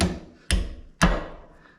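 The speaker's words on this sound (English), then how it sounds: "hammer it in" Three sharp hammer blows, evenly spaced about half a second apart, drive a seal into a tractor hydraulic cylinder under rebuild for dry-rotted seals, each strike close, loud and ringing briefly.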